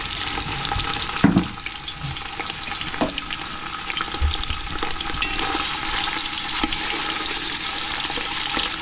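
Sausage browning in a big pot for Cajun chicken and sausage okra gumbo, a steady crackling sizzle with occasional stirring scrapes and knocks, close and continuous throughout.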